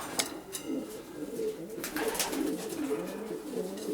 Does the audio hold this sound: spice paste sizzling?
no